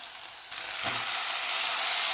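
Onion, turmeric and spinach hit hot oil in a pan, a soft hiss swelling into a steady, loud sizzle that keeps going on its own.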